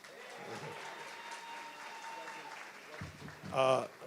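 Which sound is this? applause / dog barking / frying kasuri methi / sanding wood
applause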